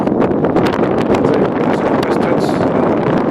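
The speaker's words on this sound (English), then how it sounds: "That's not really bad wind either, you know." Steady, loud wind blowing across the microphone at a valley campsite, a continuous broadband rush with gusty buffeting throughout and no break.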